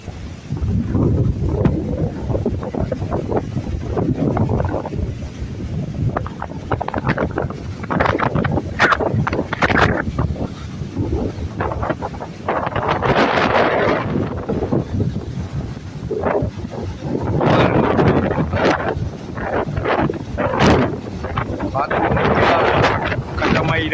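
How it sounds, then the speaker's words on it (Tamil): Strong wind buffets the microphone in heavy gusts over the steady wash of high sea waves at Mathagal, stirred by a depression, continuous throughout with a voice occasionally underneath. "அவ்வளோ காற்று வேகமாக அடிக்கிறது"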